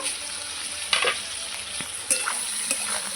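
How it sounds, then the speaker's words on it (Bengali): Potatoes and vegetable stems fry under a lid in a pan, giving a steady, close hiss broken by a few sharper stirring clatters. "এবার আমি ঢাকা দিয়ে ভালো করে আলু আর ডাটাটাকে ভেজে নেব"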